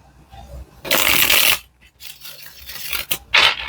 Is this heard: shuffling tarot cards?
yes